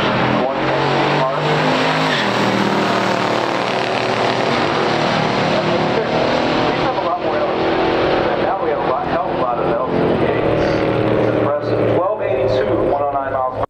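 A 1970 Chevrolet Chevelle 454 LS6 and a 1965 Pontiac GTO drag race in pure stock competition, with loud, continuous engine roar and revving heard throughout, and a commentator talking over the cars.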